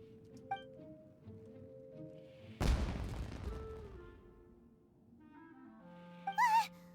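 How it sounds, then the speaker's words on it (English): A single sharp fireworks boom in the Genshin Impact video game, with a rumbling tail fading over a couple of seconds amid soft game music, followed by brief whistling tones. "It sounded like fireworks."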